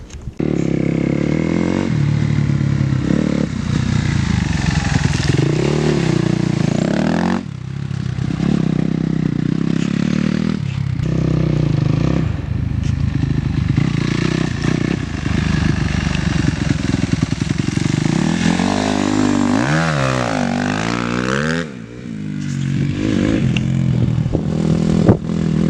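A dirt bike engine revs and rides close by, its pitch climbing and falling with throttle over steady clatter, with a few short lulls between bursts.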